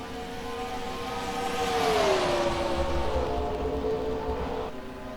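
Stock cars race at Lowe's Motor Speedway in a 2005 race, a broad engine roar swelling as the field passes, with a rising and falling engine pitch over steady distant crowd noise.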